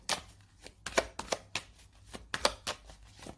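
Tarot cards shuffled close by in a quiet room, a series of soft crisp riffling snaps and slaps in an uneven rhythm.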